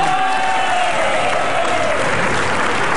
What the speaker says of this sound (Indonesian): Kembali ke tepuk tangan tuh semua.